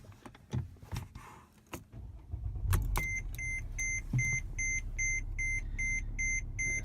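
A 2007 Mercedes ML320 with transmission shifting problems starts up. A few clicks and the crank come first, then the engine settles into a low, steady idle under a repeating electronic chime.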